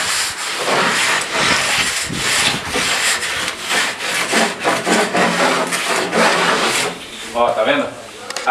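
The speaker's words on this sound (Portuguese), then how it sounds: "Então vou pegar a régua e vou passar aqui para vocês verem." A straightedge rule scrapes across fresh cement wall plaster with a gritty, rasping sweep, close and loud, in repeated strokes, with a voice heard faintly at times.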